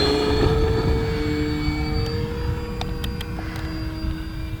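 A large RC plane, an Avios Zazzy, flies nearby with a steady motor whine and faint high tones, staying fairly loud and even with no talking.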